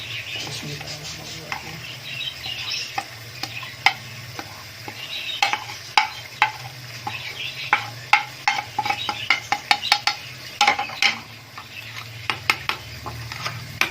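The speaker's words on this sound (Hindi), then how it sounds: "हम दही में जितने भी हमारे पास मसाला जाते हैं हम सारे इसमें शामिल करके मिक्स करेंगे" Yogurt mixed with spices stirred in a bowl for chicken karahi, repeated spoon clinks and scrapes in an uneven rhythm over a low background hum, close and fairly loud with no talking.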